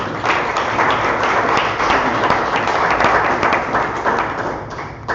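A crowd at a community meetup in Miami gives a round of loud, continuous applause, many hands clapping at once and thinning a little toward the end.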